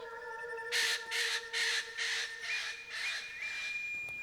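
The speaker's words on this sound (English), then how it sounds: "Eclectus parrots are the pinnacle of parrot evolution." Harsh, loud squawks from an Eclectus parrot in Australia, about six broadband bursts in quick succession against a steady high tonal background.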